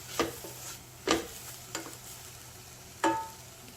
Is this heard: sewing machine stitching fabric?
no